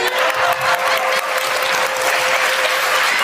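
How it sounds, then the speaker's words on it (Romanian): Loud, sustained audience applause during a Romanian comedy sketch, a full, continuous roar of clapping hands, close and unbroken, with a thin steady tone running underneath. "Aplauze"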